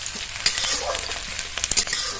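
Chopped onion and green chillies fry in oil with bay leaf and five-spice in a wok, a loud close sizzle with quick scraping stirs and light clicks of the spatula.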